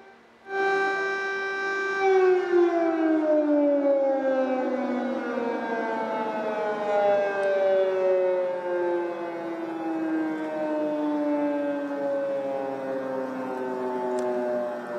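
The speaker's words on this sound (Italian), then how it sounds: "Questo è il centro di Kiev nella notte con le sirene che continuano a risuonare" Air raid sirens wailing at night over central Kyiv, a loud sustained tone that sweeps down in pitch and holds, echoing across the city with no voices.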